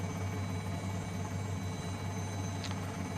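An R44 Raven II helicopter in Microsoft Flight Simulator drones steadily with a strong low rotor hum and a constant engine whine, close and unbroken throughout, with no talk.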